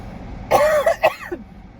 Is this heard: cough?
yes